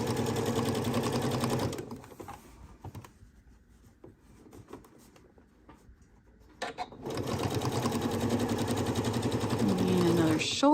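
A sewing machine stitches the shoulder seam of a woven top in fast, steady runs, stopping for several seconds in the middle before starting up again, with a voice talking over it.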